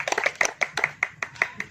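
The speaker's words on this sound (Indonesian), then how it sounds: "Boleh tepuk tangan buat narasumber kita, Ferry Cowboy" Hand clapping from a small audience for a guest speaker at a talk, a brief burst of fairly loud claps in an uneven rhythm that thins out within two seconds.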